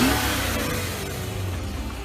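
A Mercedes S550 with a 5.4-liter naturally aspirated V8 revving, a brief mid-pitched engine rumble that swells and then eases off slightly over two seconds.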